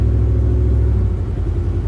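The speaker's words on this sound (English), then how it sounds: "truck is going straight, steering wheel is straight." A truck drives straight down a road, heard from inside as a loud, steady low engine and road rumble with no breaks or changes in speed.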